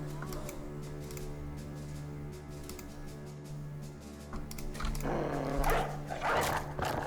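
Dog barking in a video game, set against steady game music with a sustained low drone, the barks growing busier and louder toward the end.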